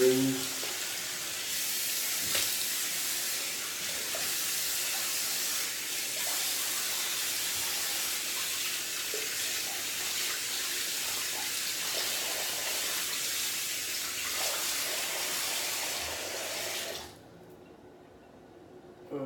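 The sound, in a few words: running tap water rinsing after a shave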